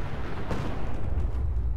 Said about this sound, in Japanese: 何かが爆発。